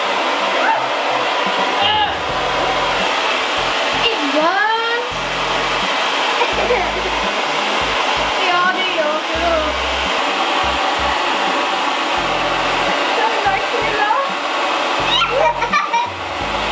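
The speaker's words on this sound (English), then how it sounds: "we decided to give it a helping hand" A hair dryer blows on a peel-off face mask, giving a steady, close whirring rush throughout, with children's high voices and laughter breaking in over it.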